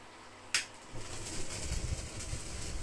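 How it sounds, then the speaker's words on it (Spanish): Bourbon-laced sauce flambéed in a pan, a sharp click of ignition followed by a soft, sustained whoosh and crackle of flame rising and settling over a few seconds. "Lo flambeamos para potenciar aún más su sabor"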